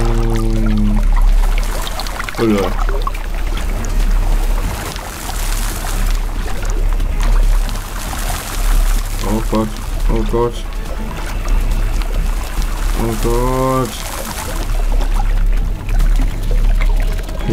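Liquid water sloshing and pouring in the physics puzzle game Puddle, a continuous wet flowing wash with low rumble, under excited German talk from a player.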